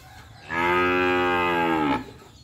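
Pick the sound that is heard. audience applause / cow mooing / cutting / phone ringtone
cow mooing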